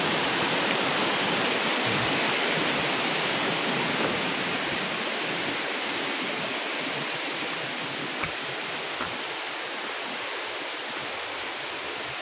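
Nalalata Falls in Bula, Camarines Sur, Philippines: a constant broadband roar of falling water, dense and unbroken, heard near and steady throughout, with no voices.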